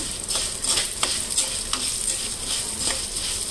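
Coriander seeds roast slowly in a pan over a low flame for garlic chili powder, giving a soft steady crackle with regular scraping stir strokes up close.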